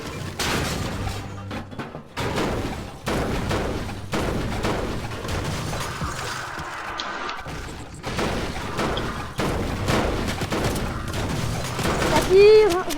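Video game gunfire in a squad battle royale match: repeated bursts of shots and booms scattered across the scene, mixed with game effects and players talking over the action.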